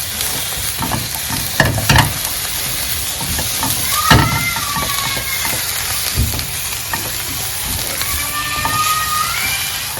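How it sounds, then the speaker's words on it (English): Onions and mushrooms sauté together in a pan for beef stroganoff, giving a loud, steady sizzle broken by a few sharper scrapes and knocks of stirring. "we saute the onions and the mushrooms together"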